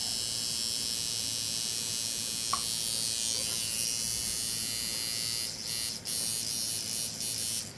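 Cheap $6 tattoo machine running at 5 volts, a steady high electric buzz that keeps going throughout with a small tick early on and a few brief dips near the end.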